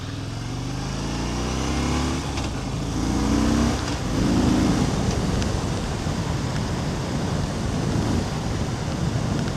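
A 2015 Harley-Davidson Fat Bob motorcycle cruising on the road in fourth gear, a steady low engine rumble heavily mixed with rushing wind noise, continuous and even throughout with no voices.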